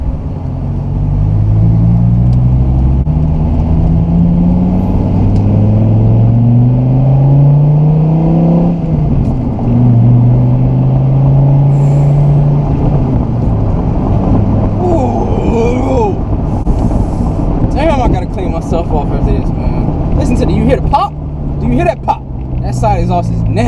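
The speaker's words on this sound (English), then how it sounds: "So to hear this exhaust note when I'm hitting the gas, it is intoxicating, man." A Dodge Viper SRT-10's V10 exhaust revs loud and close, the engine note rising and falling through repeated throttle blips with a deep, continuous rumble, while someone talks over it throughout.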